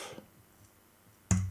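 A single key pressed on a computer keyboard, one sharp click near the end after a quiet stretch.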